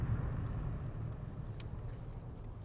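Steady low engine rumble from a 2015 Mercedes-Benz C63 AMG with its 4.0 V8, heard from inside while driving, a constant droning hum with light road noise and no voices.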